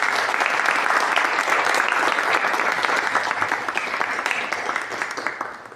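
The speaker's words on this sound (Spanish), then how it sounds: "un merecido aplauso" A seated audience at a book presentation gives sustained applause, loud and dense at first, then gradually thinning and fading toward the end.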